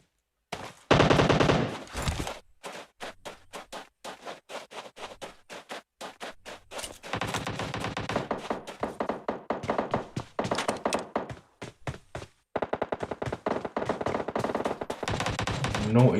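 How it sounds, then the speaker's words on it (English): Gunfire in a battle royale squads video game gunfight, with rapid bursts of automatic weapon fire and single shots in stuttering clusters, crisp and close, continuing with brief pauses throughout. "gunfight"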